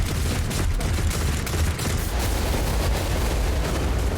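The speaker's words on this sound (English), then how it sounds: "Initiating defense protocol. Excellent. Hey! Surprise, motherfuckers, turrets!" Defense turrets opening fire in Warhammer 40,000: Rogue Trader, a dense, continuous roar of rapid shots and low rumbling impacts, loud and sustained throughout without a break.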